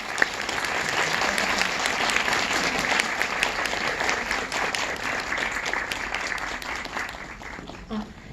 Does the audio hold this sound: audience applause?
yes